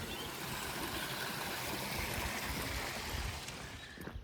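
Flowing stream water beside a countryside walking trail, a steady rushing burble close by, continuous and fairly full, with no talking.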